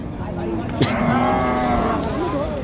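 Cattle low with long, drawn-out moos over a busy background murmur of a crowd at a cattle market, one moo rising clearly in the middle.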